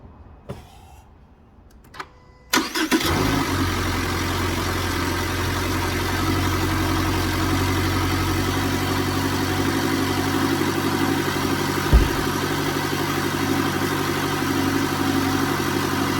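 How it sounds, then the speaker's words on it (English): Subaru Impreza engine cranking and catching after a few faint clicks, then settling into a steady, even idle that continues throughout. "Let me start the car, okay?"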